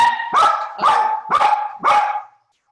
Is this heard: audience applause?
no